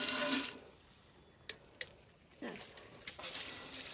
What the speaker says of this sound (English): you just want the dirt sprayed off of it.